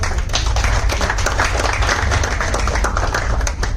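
Dense, steady clapping from an audience at a business orientation welcome meeting at KC Residency, loud and continuous for several seconds with no voices over it.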